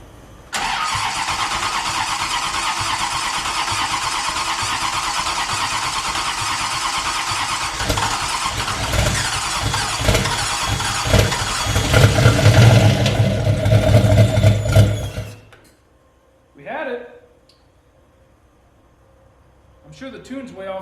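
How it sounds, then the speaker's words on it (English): A turbocharged LS engine in a Fiero cranks, fires and runs loud and rough for about fifteen seconds before cutting out, followed by a couple of brief, quieter sounds and some voices. "Let's try and start it."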